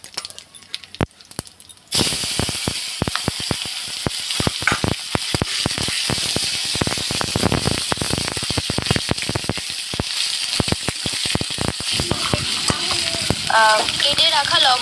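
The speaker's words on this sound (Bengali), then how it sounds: "আর তারপর সব শেষে আমি এখানে এটা ভালোভাবে নাড়িয়ে নেব" Bay leaves and tomato sizzle in hot oil in a pan while being stirred for a shrimp curry. A loud, continuous frying hiss is broken by frequent sharp clinks of the spoon against the pan.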